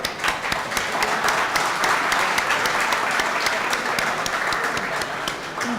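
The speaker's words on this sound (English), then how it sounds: "I'd like to give our panelists an enthusiastic round of applause" Enthusiastic audience applause for panelists at a funding panel, a full, sustained wash of many hands clapping steadily for several seconds at moderate loudness, with a faint crowd murmur underneath.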